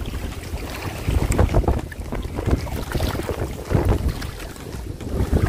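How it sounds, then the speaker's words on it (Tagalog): Strong wind buffets the microphone in rough gusts, over the low rush of a boat moving through water, with no one speaking. "Kasi mahangin"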